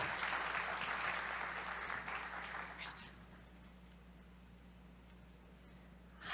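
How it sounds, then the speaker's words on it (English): An audience at a business talk on workplace trends gives a short burst of applause for a reporter being introduced, loud for about three seconds and then fading into room hum. "A little applause, ladies and gentlemen."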